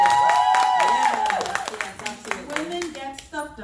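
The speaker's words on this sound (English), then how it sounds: "Studio audience, please give applause so they can hear you." A studio audience at a taped discussion show claps in a quick burst of applause, mixed with overlapping voices and tonal sounds that continue as the clapping thins out.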